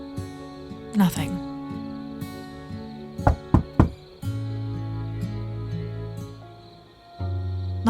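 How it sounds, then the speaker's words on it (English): Several sharp knocks rap on a door in quick succession over soft background music, with a brief voice just before. "Knocking on the door"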